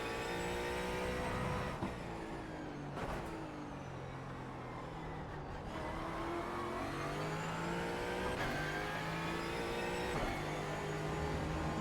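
A Ford Mustang GT4 engine in the iRacing game snarls through gear changes at Interlagos, revving up with a steady rising pitch and dropping sharply on each shift and braking, loud and close throughout.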